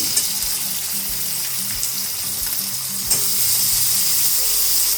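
Potatoes sauté in a pan with a steady, close sizzle and occasional soft stirring. No voices.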